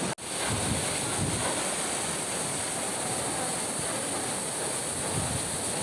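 Buntot Palos Falls, a waterfall in Pangil, Laguna, roars as a dense, steady rush of falling water that stays close and loud from start to finish, with no voices.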